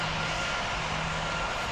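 Boeing airliner engines on final approach in the game PTFS make a continuous, even roar with no voices over it.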